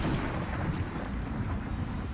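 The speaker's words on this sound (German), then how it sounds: "Da schlägt erstmal der Blitz im Baum ein." Thunder from a lightning strike hitting a tree in Demon's Souls, a loud, rolling low rumble that fills the whole moment without any talk.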